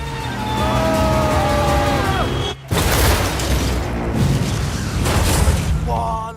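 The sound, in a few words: car exploding after a crash in a film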